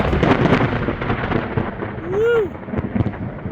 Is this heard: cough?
no